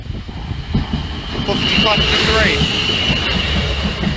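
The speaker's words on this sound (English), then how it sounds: "First train should be coming from that way." Train pulling into Farnham station at the level crossing, a rumbling approach that grows louder with a squeal of wheels or brakes midway, while a person talks over it.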